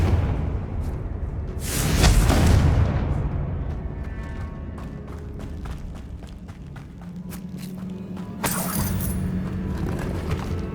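The Confringo blasting spell in Hogwarts Legacy sets off a booming explosion that swells and rumbles early on, followed by game footsteps and clatter, and a second sharp burst near the end.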